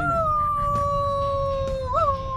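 A person imitates a dog howling, holding a long steady tone for over two seconds that bends upward near the end, with a low hum of background noise.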